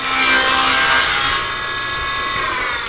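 A saw cutting the beveled side of a wooden sandpaper cutter, a close, loud rasping cut that eases off halfway through as the blade spins down with a fading whine.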